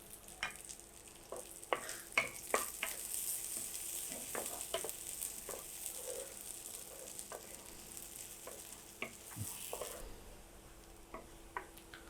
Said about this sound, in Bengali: রসুন আর পেঁয়াজটাকে আমি ভেজে নিয়েছি